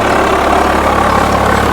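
A 39 HP tractor engine runs steadily with a sugarcane rotavator attached, giving a loud, continuous low rumble with no pauses or voices.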